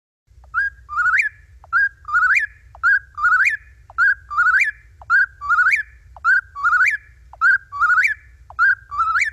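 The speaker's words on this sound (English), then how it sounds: "That, of course, is an eastern whippoorwill." An eastern whippoorwill calls at night, repeating its loud, clear three-note whistled phrase about a dozen times in a steady, quick rhythm, close by over a faint low rumble.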